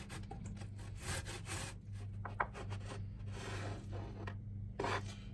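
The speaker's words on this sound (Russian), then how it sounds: "Свеклу я тоже тру на крупной терке." Baked beetroot rubbed on a coarse grater, a steady run of close, raspy scraping strokes over a low constant hum, no voices.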